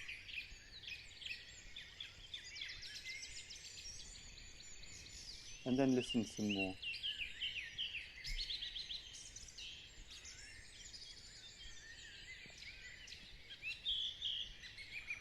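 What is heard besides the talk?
birds singing outdoors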